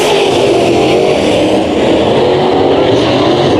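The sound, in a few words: modified race cars racing on dirt track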